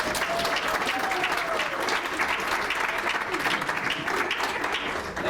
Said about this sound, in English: Can we all just give them a round of applause?